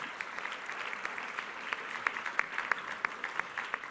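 Steady applause from the audience at a mayoral summit on housing, transportation and jobs, a dense roomful of hands clapping at even volume for several seconds with a few sharper nearby claps standing out.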